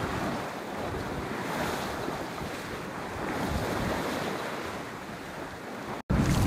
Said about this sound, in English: we are going like boom boom boom against the waves, and we are quite slow right now